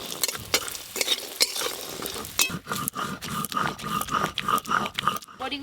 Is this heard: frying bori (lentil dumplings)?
yes